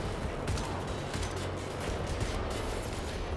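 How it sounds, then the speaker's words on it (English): Dense gunfire from the shooter game Wolfenstein: The New Order forms a steady, loud wash of rapid shots. The firing runs without a break for the whole stretch. "Someone's shooting at me."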